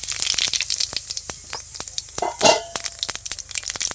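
Cumin seeds and dried chilies tempering in hot oil crackle and pop in dense, irregular bursts, with one louder flare of sizzle partway through, all close up with no talking.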